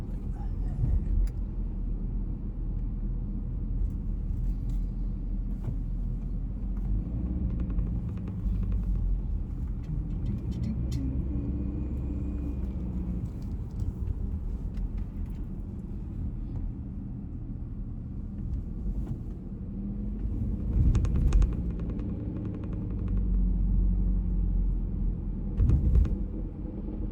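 A car drives steadily along a one-lane mountain road on the way to Tipsoo Lakes, its low engine and tyre rumble continuous and close, swelling slightly louder near the end.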